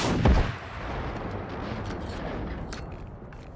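A single sharp gunshot blast in the game Generation Zero, loud and close at the start, followed by a rumbling echo and lingering low ambient noise.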